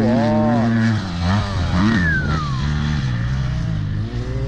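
Motocross motorcycles rev loudly and sweep past up close, with engine pitch rising and falling as they go by and a voice briefly heard under the engine noise.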